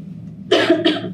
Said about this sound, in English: and cough it all out